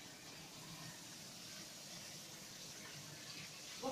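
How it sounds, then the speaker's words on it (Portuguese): Tap water runs steadily over leftover canned food being rinsed in a sink, a continuous close, even splashing hiss that lasts the whole moment. "Vou passá-los por água."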